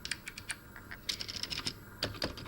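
Keys being pressed on a Commodore 64 keyboard with a dead, unresponsive keyboard fault, a close run of irregular clicky taps with short pauses between bursts, no voices.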